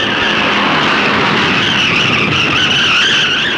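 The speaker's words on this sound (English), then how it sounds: "There's a wild mix-up involving 5 cars on the second turn." Stock cars skid and roar through a five-car pile-up on the second turn at Darlington's 1964 Southern 500, a dense, continuous wash of engine and tire noise at steady high loudness with no voices.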